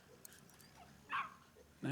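A dog in the video game The Division 2 gives two short, quiet yips or barks about a second apart over faint game ambience.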